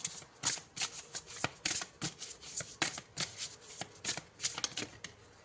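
A deck of oracle cards is shuffled close up, giving a steady run of crisp riffling and slapping bursts with no voice.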